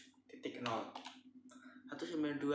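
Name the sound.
typing on a computer keyboard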